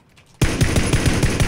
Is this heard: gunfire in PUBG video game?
yes